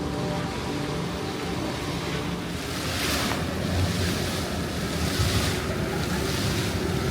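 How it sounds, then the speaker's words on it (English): Water splashing in the fountain at Philadelphia City Hall makes a steady, loud rush of broadband spray, with gusts of wind buffeting the microphone throughout and no talking. "We're going to walk through the fountain one time because we can."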